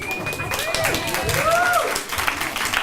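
A school audience at a high school poetry slam breaks into lively clapping and cheering, a steady burst of many hands with voices calling out over it.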